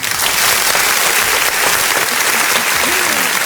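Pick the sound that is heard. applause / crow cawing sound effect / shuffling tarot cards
applause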